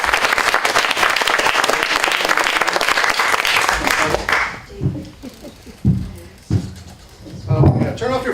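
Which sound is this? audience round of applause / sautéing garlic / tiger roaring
audience round of applause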